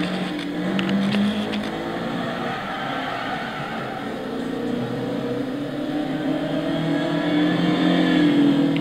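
Lotus Esprit GT V8 3.5-litre 32-valve biturbo from 2002, driven in Gran Turismo 6, its engine roaring steadily at close range with a sustained droning tone throughout and no talk.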